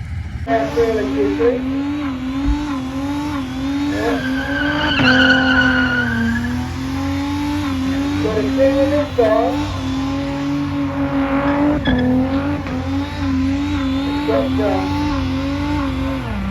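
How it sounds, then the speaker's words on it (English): A car does a smoky tire burnout at Sapphire Speedway. A loud, steady engine roar with screeching, skidding tires holds for the whole stretch, over crowd noise and voices. "we'll show you the burnout action at the Sapphire Speedway"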